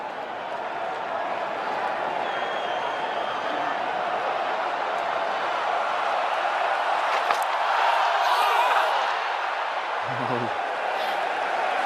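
Crowd at a cricket test match between India and England, a broad steady roar of many voices that swells slightly near the end, heard at a distance and continuous throughout.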